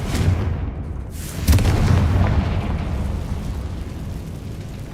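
A fiery spell blast from the Hogwarts Legacy video game booms loudly, with a second heavy explosion about a second later rolling into a decaying rumble.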